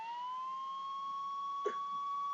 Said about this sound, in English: sirens can only mean one thing